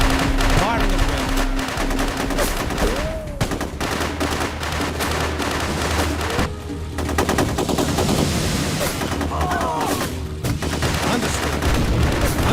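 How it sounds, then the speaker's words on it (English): Rapid bursts of automatic gunfire and explosions in the 2006 PC war game War On Terror, dense and continuous with booming low thuds, while a radio-style unit voice speaks briefly. "Returning fire."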